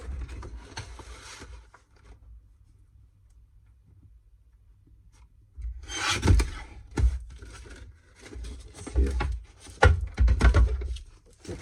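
A blade drawn along a ruler through paper card for a winter holiday card, heard as a short scrape early on, then, after a quiet gap, several close, crisp cutting strokes in uneven bursts.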